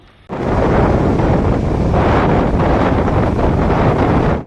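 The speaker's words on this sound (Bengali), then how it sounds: "হাতিয়া উপকূলের বিভিন্ন এলাকায় ঝড়ো হাওয়া সহ কালো মেঘের আধিক্য দেখা গেছে" Strong, gusty storm wind from Cyclone Remal on the Hatiya coast of Bangladesh roars loudly and continuously against the microphone, with heavy low buffeting and no voices.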